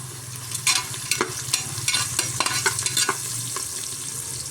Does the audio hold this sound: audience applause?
no